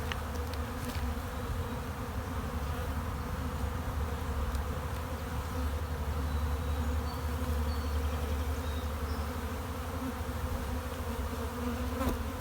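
A honey bee colony in an open hive buzzes with a dense, steady drone, loud and close throughout with no talk over it.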